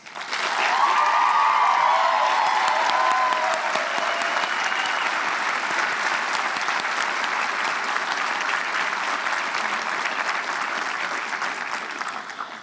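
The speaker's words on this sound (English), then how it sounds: "take a moment and recognize them all with a round of applause" Sustained applause at a college commencement for the faculty and staff, a large crowd clapping steadily for over twelve seconds and tapering slightly toward the end.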